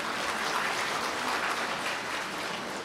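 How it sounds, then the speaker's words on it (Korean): Wedding guests at a hotel ceremony applaud the officiant after his address, a dense, steady wash of many hands clapping at once for about three seconds, with no voices rising above it. "다시 한번 우리 선생님께 박수 한번 보내주시기 바랍니다."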